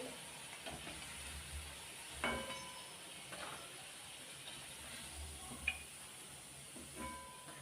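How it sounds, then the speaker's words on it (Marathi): Sabudana vada fry in oil, a quiet steady sizzling hiss with a few faint clicks and light knocks of a utensil. "हे शेवटचं राहिलेलं आहे ते तळून घेते"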